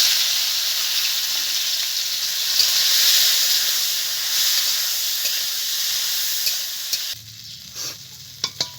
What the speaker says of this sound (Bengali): বন্ধুরা তেল গরম হয়ে গেছে, এখন এই লবণ হলুদ মাখানো চিংড়িটাকে ভেজে নেব।